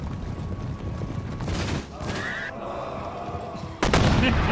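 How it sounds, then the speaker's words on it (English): Artillery and mortar fire in Empire: Total War, a dense rumble of distant booms and crackling shots with a sharper, louder blast near the end over continuous battle noise. "the mortars are actually firing at us"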